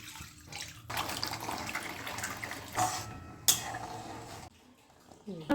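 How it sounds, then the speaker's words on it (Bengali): Water is poured from a tap over green peas in a pot, ready to boil for ghugni: irregular splashing, gushing bursts with brief clinks of the vessel, stopping near the end. "মটরশুঁটিগুলো সেদ্ধ করে নেব, জল দিয়ে দিচ্ছি।"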